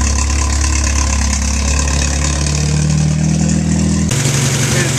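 A 1973 Datsun 610 race car engine idles rich with the choke on, a loud, steady, close low rumble whose pitch shifts slightly partway through.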